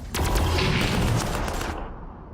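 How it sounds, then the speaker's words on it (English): Gunfire in the video game Warhammer 40,000 Armageddon: a dense, loud burst of rapid overlapping shots rolls for under two seconds, then cuts off into a fading rumble. "Have the AT unit shooting at vehicles."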